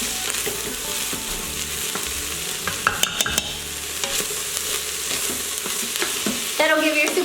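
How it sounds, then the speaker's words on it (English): Minced garlic and onions sizzle steadily in an Instant Pot on sauté, with scraping stirs and clinks from a utensil against the metal pot scattered throughout, loudest near the end. "This garlic we're gonna cook with the onions for about 2 minutes."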